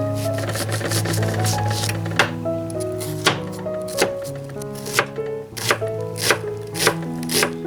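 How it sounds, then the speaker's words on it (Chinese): A knife dicing onion on a cutting board in a home kitchen: steady, sharp chopping taps landing in a quick, regular rhythm, close and clear with no talking. "洋葱也切丁"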